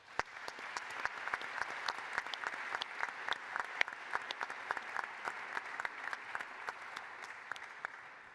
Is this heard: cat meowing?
no